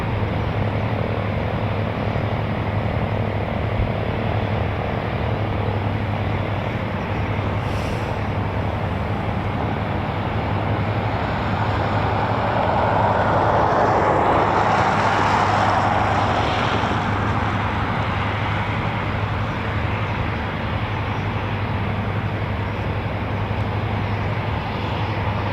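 A Eurofighter Typhoon FGR4 jet flying at RAF Coningsby: a loud, continuous broadband engine roar that swells toward the middle and then holds steady, heard from a distance with no talking.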